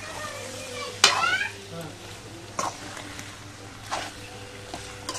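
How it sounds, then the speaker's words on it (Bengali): Duck meat stir-fried for kacchi biryani with basmati rice makes a quiet, steady sizzle broken by a sharp metal clank and several scraping stirs, with a voice speaking briefly. "দিব মাংসগুলো দিয়ে ভালো করে কষিয়ে নিব"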